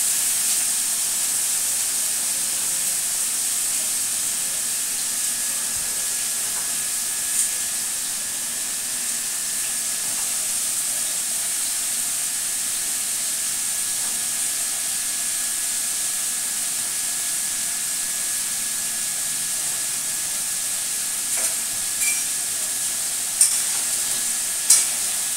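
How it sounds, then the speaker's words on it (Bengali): Pointed gourd (potol) pieces coated with salt and turmeric frying in a pan on one burner, a steady, even hiss and sizzle running unbroken for about twenty-five seconds, with faint clinks near the end and no voices. "এক ওভেনে চলছে পটল ভাজা"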